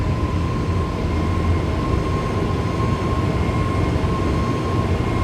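Inside a simulated Airbus A320neo built by IniBuilds, the engines hold a loud, steady roar at takeoff thrust with a constant tone running through it, and no voices.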